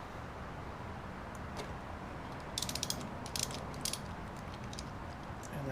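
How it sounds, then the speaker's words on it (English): A ratchet loosening spark plugs on a 2011 Kawasaki Ninja 250 motorcycle, several short bursts of rapid metallic clicking close by over a steady background hiss, with no talking. "Just going to go ahead and loosen them."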